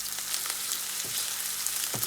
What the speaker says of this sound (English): So I'm adding my red onions. I'm gonna let them fry a little bit on very low heat.